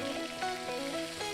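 Spice paste sautéing in oil with bay leaves, cinnamon, galangal and lemongrass gives off a steady, close sizzle and crackle with faint stirring, and no voices.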